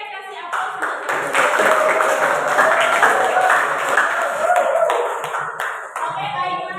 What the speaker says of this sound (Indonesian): kasih aplaus untuk